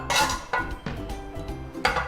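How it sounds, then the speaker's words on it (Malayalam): Home cooking of Ramadan iftar snacks: a mixture is moved into another bowl with several sharp clinks and knocks of dishes and utensils in an irregular rhythm, close and moderately loud. "പകുതി എടുത്ത് വേറൊരു പാത്രത്തിലേക്ക് മാറ്റി വെക്കാം"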